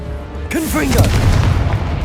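A Confringo fire spell in the video game Hogwarts Legacy bursts into a loud booming blast with a whooshing rush, layered with game effects and a short voice cue, close and heavy.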